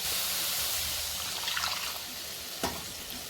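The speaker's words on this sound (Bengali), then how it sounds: "এবার এতে একটু আমি সামান্য জল দেবো" A little water pours into a pan of fish curry masala for katla fish rezala, a short soft splashing rush over a hissing background, with a faint clink near the end.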